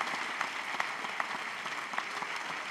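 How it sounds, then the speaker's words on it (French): A comedy show audience claps in a steady patter of hands, fairly faint and even throughout, with a few sharper claps standing out. "Oh, applaudissons pour nos voisines."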